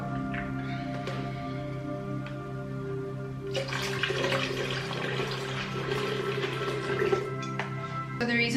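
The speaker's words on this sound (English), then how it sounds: "I'm going to add a little bit of water now as well" Water pours into a blender already holding dairy-free milk, a soft trickle that turns into a louder, splashing gush for several seconds over a steady low hum.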